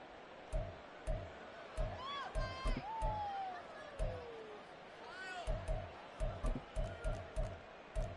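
A home crowd at a football video game swells in a roar, with rhythmic thumping beats throughout and a voice talking over it.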